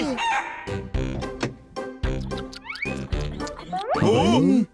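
A rooster crows in an animated Honey Bunny cartoon, a loud rising-and-falling call near the end, following stretches of people talking.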